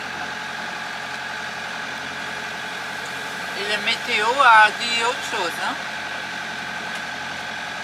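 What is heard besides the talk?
sailboat motor engine running at sea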